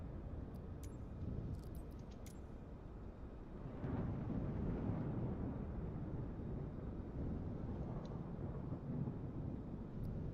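Rumbling thunderstorm at an airport in Microsoft Flight Simulator 2024, with a parked airliner at the gate: steady low roar and wind, swelling louder after a few seconds, with no talking.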